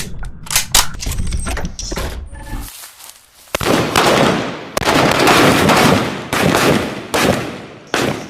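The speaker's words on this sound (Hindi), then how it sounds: "ये असली गोलियां चला रहे हैं। असली गोलियां।" Live rounds fired during Indian Army weapons training at the India-Pakistan border, rapid loud sharp cracks in dense bursts, close and sustained, with a brief lull before heavier volleys resume.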